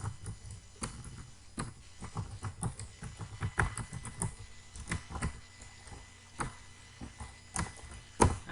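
Rapid, irregular keystrokes on a computer keyboard while HTML is typed, close and fairly quiet, with uneven clicking bursts throughout and no talk.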